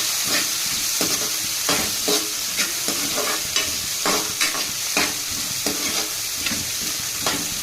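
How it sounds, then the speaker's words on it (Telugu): Cumin, green chillies and onions fry in oil in a kadai for gongura fry, a loud constant sizzle punctuated by regular scraping strokes of the spatula, roughly one every half second. "పచ్చిమిర్చి ఉల్లిగడ్డలు అవన్నీ వేసుకొని ఫ్రై చేసుకోవాలి బాగా ఫ్రై అవ్వాలి"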